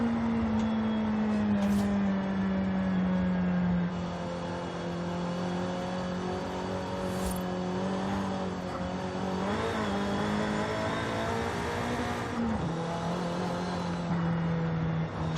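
In Forza Horizon 5, a Nissan Sentra Nismo's engine drones steadily at high revs, with pitch drops at gear shifts and brief tire squeals, loud and continuous with no talk.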